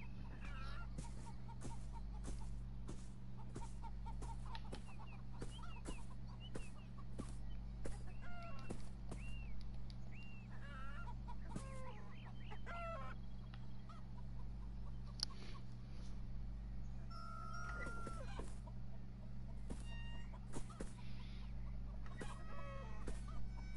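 Chickens clucking in the video game Beyond Eyes, intermittent soft clucks and short calls scattered throughout over a constant low drone of game ambience.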